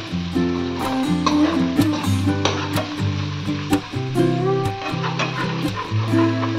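Frying in a pan while making veg Manchurian, a loud continuous sizzle with crackles and stirring clatter throughout, punctuated by brief sharp spikes from the food moving in hot oil.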